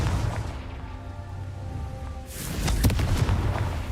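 A Confringo explosion spell in the Hogwarts Legacy video game goes off as a deep boom with rumbling aftermath, one burst after a quieter stretch of tonal game sound.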